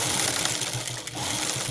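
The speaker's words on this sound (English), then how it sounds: "Now we stitch the other side of the bag." Sewing machine stitching the side seam of a velvet purse, a steady continuous mechanical whir with rapid needle chatter running almost unbroken, close and fairly loud with no talking.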